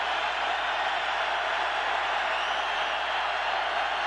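Steady, dense roar of a stadium crowd at a 2003 Tennessee vs Auburn college football game, a constant wash of noise with no distinct cheers or voices standing out.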